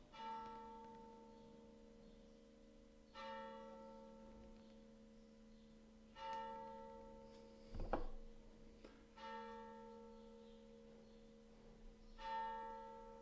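A clock bell tolls at twelve o'clock with slow, resonant strikes about three seconds apart. Each long ringing tone decays before the next, with a brief clunk near the middle, in a quiet indoor room.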